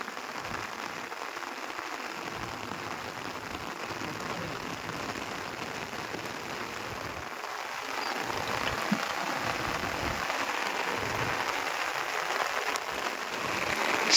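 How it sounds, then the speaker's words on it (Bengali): Steady wash of rain pattering on the sea along the coast, constant and diffuse, growing slightly heavier toward the end. "মেঘ বৃষ্টিতে ছেয়ে গেল পুরো আমাদের এই সমুদ্র উপকূল"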